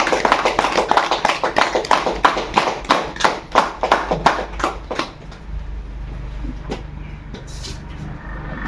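An audience at a distributor meeting claps to welcome a speaker onto the stage, the hand claps sharp and rhythmic and fairly near, then thinning out and fading into the room's background hum.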